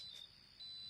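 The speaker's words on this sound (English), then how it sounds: "Hey, are you seriously going to let that machine beep all night?" An electric box in a horror indie video game gives off a high, piercing electronic beep, a sustained tone that briefly pulses and then holds steady, heard on its own.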